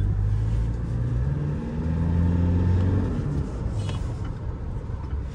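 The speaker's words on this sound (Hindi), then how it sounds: "अब थोड़ा सा भगाते हैं इसका पिकअप, चेक करते हैं।" Toyota Revo pickup accelerating on a test drive, a steady low engine drone rising and settling inside the cab, heard alone without talking.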